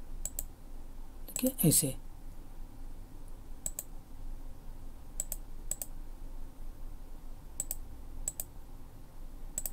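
Sharp, sparse computer mouse clicks while editing in Photoshop, coming in short irregular pairs over faint room noise, with someone speaking briefly near the start.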